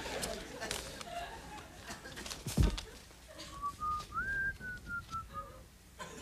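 Several whistled tones from people backstage at a TV talk show drift and glide over a few seconds, with a thump partway through and faint background murmur.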